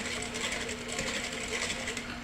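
A stand mixer whirs steadily as it works a small batch of vegan banana cake batter, a continuous close mechanical hum and rattle with a faint constant tone and no break in the running.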